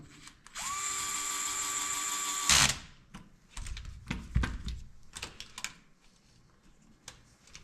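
An electric driver whirs steadily for about two seconds, driving a screw into the servo horn of a Traxxas TRX-4 Sport RC truck, then stops abruptly, followed by scattered clicks and handling taps nearby.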